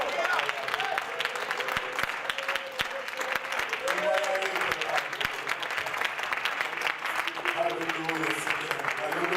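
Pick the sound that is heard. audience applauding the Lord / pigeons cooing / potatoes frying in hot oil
audience applauding the Lord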